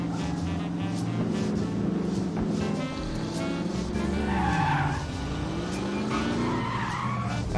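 A car in the video game The Saboteur skids under the handbrake, tires squealing in wavering tones over a loud continuous engine roar, with no talk.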